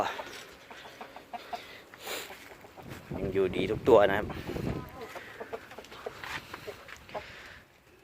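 Gamecock chickens cluck and crow nearby while someone talks over them, with a louder burst of rooster sounds in the middle.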